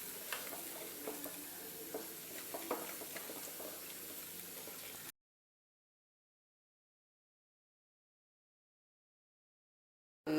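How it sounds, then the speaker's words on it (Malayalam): Banana fritter batter stirred by hand to an idli-batter consistency, giving soft wet scraping and light clicks for about five seconds before the sound cuts to silence. "ഇതിനി കട്ടയില്ലാതെ നമുക്ക് നന്നായിട്ട് ഇളക്കി കൊടുക്കാം"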